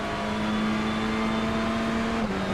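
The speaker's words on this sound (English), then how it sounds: "they absolutely nailed the sound of these Hondas in the TCR class" A Honda TCR-class race car engine from the iRacing sim holds a loud steady high-rev drone, and its pitch drops slightly near the end as it shifts or lifts, with no voices.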